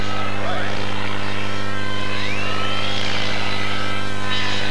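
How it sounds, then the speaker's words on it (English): Model helicopter doing aerobatics at a jet airshow in DeLand in 1993, flying backwards with a steady constant-speed rotor drone and high engine whine, loud and continuous with crowd and announcer noise underneath. "Yes, he's flying the helicopter backwards there."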